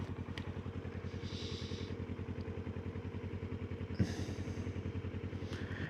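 A motorcycle on a night ride gives a steady low engine drone with a regular pulsing beat, close and continuous, joined by a brief thump and passing hiss.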